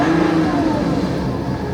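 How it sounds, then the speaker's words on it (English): A BMW 525d diesel idles steadily up close with warning chimes sounding, a continuous low engine drone holding even for under two seconds with no talk over it. "apart from all of the warnings going off, she's running as she should"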